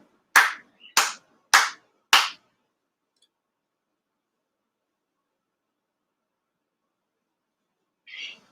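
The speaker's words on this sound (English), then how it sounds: "Chido Haire, 4 sincere claps along with officiant." Four sharp, evenly spaced hand claps ring out in a quiet room during a Konko purification ceremony, followed by long silence and one brief faint sound near the end.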